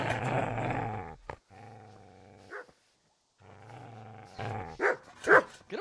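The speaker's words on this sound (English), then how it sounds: "Get away, you mutt!" A dog growls and barks in loud, close bursts with short gaps of silence, the rumbling growls broken by sharper barks toward the end.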